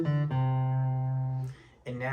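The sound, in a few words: flatpicking guitar line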